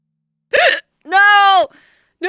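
A person hiccups repeatedly: a short voiced gulp, then a longer squeaky, tonal hiccup, and another starting at the end, loud and close with silence between.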